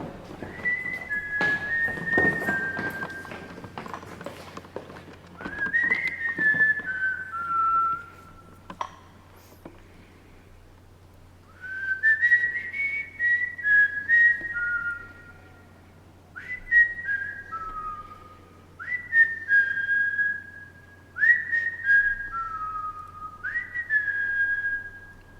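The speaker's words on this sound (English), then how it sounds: "Somebody just whistled." Whistling by a person: a series of short, bright two- and three-note phrases repeated in bursts with pauses between, clear and fairly close over a low steady hum.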